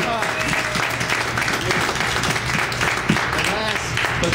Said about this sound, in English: Please give a loud round of applause for Mr. John Franco.